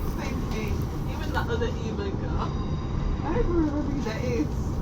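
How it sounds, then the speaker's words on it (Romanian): Onboard a London Northwestern Railway train running from Wolverhampton to Coseley, a steady rumble of wheels and carriage noise continues throughout, with voices talking faintly over it. "Suntem într-un tren"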